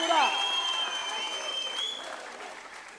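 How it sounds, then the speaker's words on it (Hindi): An audience at a public ceremony claps for a few seconds, a moderately loud wash of applause that gradually thins and fades, with a faint steady tone running underneath. "जोर से तालियां"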